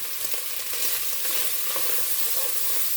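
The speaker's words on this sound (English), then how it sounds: "I'm going to turn this burner off because it is on high. It's already browning up in there." Chili meat browning in a pan over a high stovetop burner gives a steady, close sizzle that fills the whole stretch, with a few faint stirring scrapes and no talking.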